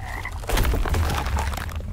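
A large hostile toad in the swamp of the video game Mortal Shell croaks in a loud, close burst of rough, throaty calls filling the two seconds, with no talking.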